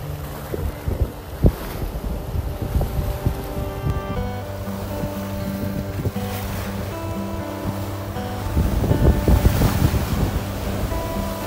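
Sea waves wash over a beach at rising tide, a constant surf wash mixed with gusty wind rumble on the microphone, swelling louder toward the end, with no voices.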